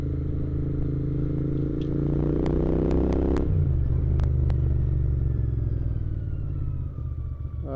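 Royal Enfield Interceptor motorcycle riding along a village and jungle route, a steady loud engine drone with rising rumble that shifts pitch midway, plus a few sharp clicks and clatter, no talking.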